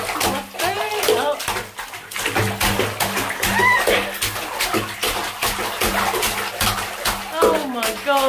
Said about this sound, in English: And you splash it.